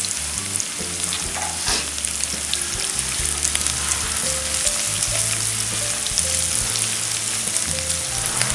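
Ginger and garlic fry in a pan for street-style veg chowmein, giving a steady loud sizzle and crackle with occasional stirring scrapes, continuous and close, with no talking.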